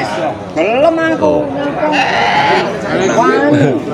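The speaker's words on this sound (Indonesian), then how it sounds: "Wih, kambingnya cantik-cantik nih" Javanese red-haired Randu goats bleating loudly at the Rejotangan livestock market, several wavering cries overlapping close by amid crowd chatter and people talking.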